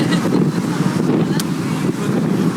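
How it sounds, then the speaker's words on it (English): Wind gusts outdoors at a wedding, buffeting the microphone with a loud, continuous low rumble that persists from start to finish. "watch out for that wind"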